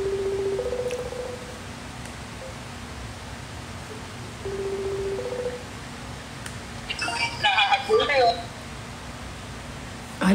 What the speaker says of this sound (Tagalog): I'll try to ring him.